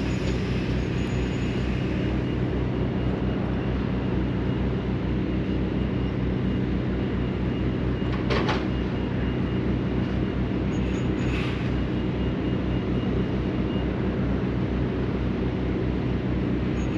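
Lorry tractor unit idling while it hooks up to a trailer and builds air pressure, a loud steady diesel rumble with a couple of brief air hisses partway through.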